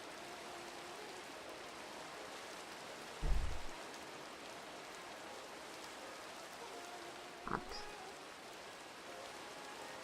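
Steady hiss of rain falling at night in a modded Minecraft world, broad and even throughout, broken by two short low thumps.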